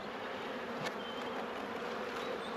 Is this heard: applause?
no